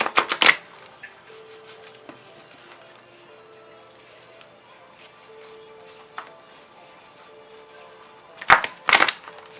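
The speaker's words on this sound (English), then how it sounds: "Just give it a quick shuffle here." A deck of cards is riffled twice, a sharp flurry at the start and another near the end, with quiet rustling and handling in between.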